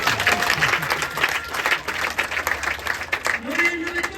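Applause rises from an audience at a community event, a steady wash of clapping that runs the whole time, with a voice talking over it near the end.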